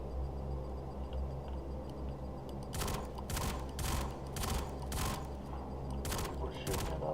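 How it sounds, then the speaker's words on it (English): Bursts of rapid gunfire in Star Citizen, several short volleys starting partway through and repeating over a steady low engine-like drone, fairly loud and close. "we're shooting it up over there"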